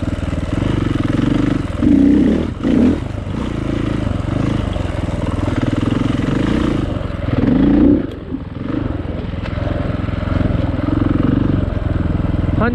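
A dirt bike ridden along a single-track trail at Durhamtown Plantation, its engine loud and close throughout, droning steadily with a few sharp revs and rattling clatter from the rough ground.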